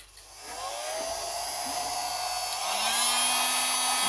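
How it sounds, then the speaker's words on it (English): A heat gun set to high blows a steady, loud hiss of hot air onto the oxidized plastic housing of a vintage chainsaw, with a rising whine that settles into a constant tone. "they say if you hit it with the heat gun, sometimes it'll bring the surface back."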